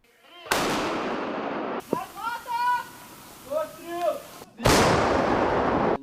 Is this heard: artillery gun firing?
yes